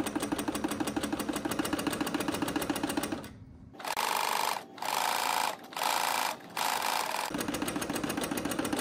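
Sewing machine stitching a line of fabric for gathering, running in several steady bursts with short pauses between them, loud and close, with a softer steady hum before and after.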